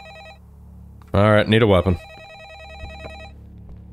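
An old-style telephone rings repeatedly in the horror video game A Favor, a steady electronic trilling tone looping in the background while someone speaks briefly over it.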